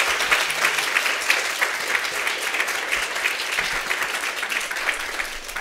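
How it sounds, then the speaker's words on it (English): A seminar audience at a New England science boot camp on genetic counseling research applauds at the close of a session, sustained dense clapping that stays loud and even throughout, with no talking over it. "Round of applause."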